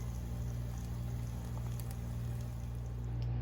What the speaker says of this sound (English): Just listen to that thing sizzle.